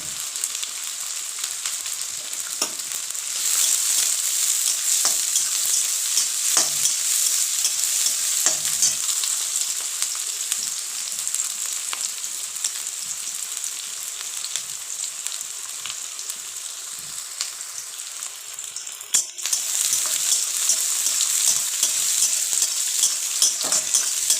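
Steady, bright sizzling of onions and chopped chillies frying in a pan, with occasional scraping stirs; loud and continuous with a brief dip near the end.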